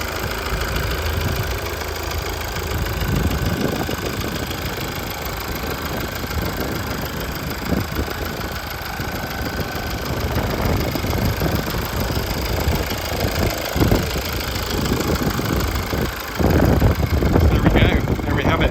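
A Toyota RAV4 engine idling, a steady mid-pitched hum with a faint ticking, heard close around the engine bay, with some handling noise and a brief louder burst near the end.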